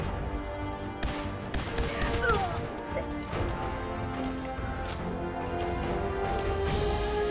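Sharp shots crack out in Fallout 4's Nuka World expansion, scattered bursts of gunfire at an uneven pace over steady background music and game ambience.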